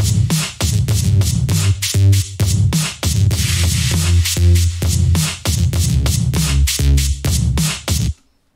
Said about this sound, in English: Those drums and that bass together sound like this.